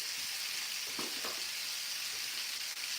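Vegetables refired in a hot pan on a busy chicken-bowl cooking line give off a steady, dense sizzle with a faint clink or two near the start, continuous and even throughout with no voices.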